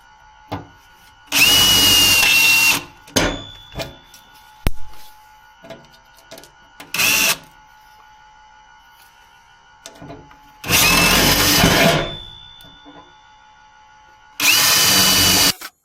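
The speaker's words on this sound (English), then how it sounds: "I'll just put an 1/8 inch guide hole through each one." A power drill boring 1/8 inch guide holes in the rear body metal during rust repair on a 1976 BMW 2002, four loud whining bursts of a few seconds each, separated by quieter knocks and handling noises.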